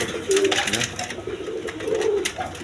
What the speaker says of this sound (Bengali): বন্ধুগণ এখানে এক পেয়ার লাল গররা কবুতর আছে